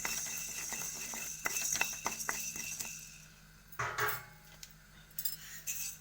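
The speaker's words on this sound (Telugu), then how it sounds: "ఇలా ధనియాలు వేయించుకుందాం." Coriander seeds roast in a kadai on the stove, giving a steady dry rattle with light metallic clinks of a spatula against the pan, close and moderately quiet.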